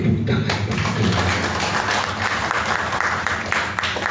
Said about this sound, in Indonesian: Yang mengerti kita berikan tepuk tangan bagi Tuhan.